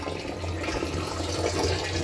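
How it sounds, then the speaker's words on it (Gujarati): Steady, forceful water pours out of an irrigation pipe in a constant rushing stream, close by, with no voices over it. "આ ટાઈપનું પાણી આવે છે."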